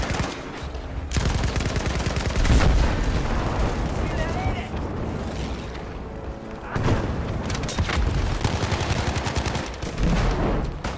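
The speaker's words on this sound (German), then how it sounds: "Hier explodiert ja alles." Explosions and gunfire from the video game Battlefield V blast continuously, with dense rattling shots and booming blasts sounding loud and close over about eleven seconds.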